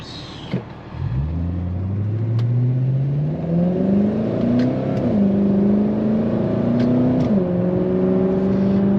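A car engine whines steadily during a night drive, a rising and falling tonal whir like a supercharger or alternator that climbs with speed, dips briefly and climbs again, continuous and fairly loud.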